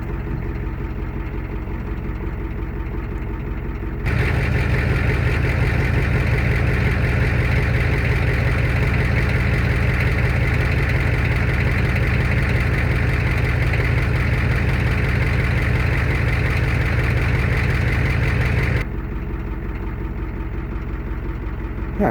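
A Ford F350 dually with a 7.3L IDI turbo diesel, idling roughly and skipping after a cold start, its low throbbing clatter steady and close for about fifteen seconds before cutting back to quieter background.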